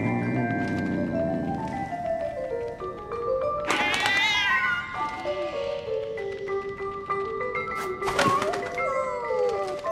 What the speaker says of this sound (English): Why is that cat meowing?